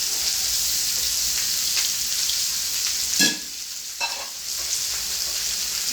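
Onion, green chili and curry leaves frying in oil with asafoetida for a lentil ball curry, a steady close sizzle with a couple of brief stirring clatters midway.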